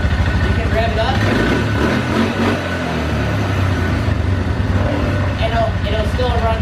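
A 2012 Polaris Sportsman 400 HO ATV engine running loud and close, a steady rough idle throbbing throughout with slight swells as the throttle is worked; the quad has a fault that makes it bog down and die.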